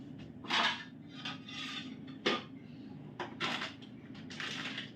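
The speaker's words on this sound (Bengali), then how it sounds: "এইবারে ঢাকনাটা চাপা দিয়ে দিচ্ছি" A lid being put onto a pot of dal: several soft scraping and rubbing bursts with light metallic knocks, close by and fairly quiet, spread irregularly across a few seconds.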